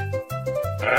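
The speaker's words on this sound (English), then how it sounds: "Sheep." A sheep bleats in three or four close, loud, wavering calls, each held briefly with short gaps between them, heard alone without any talk.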